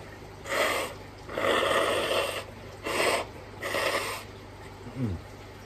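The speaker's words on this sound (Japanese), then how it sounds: "途中で鼻かんでいいですか" Someone pauses during a bowl of spicy ramen to blow their nose, making four breathy, forceful bursts with brief gaps between them, fairly close and with no talking over them.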